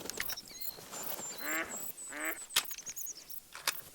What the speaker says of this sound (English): And there goes ducks.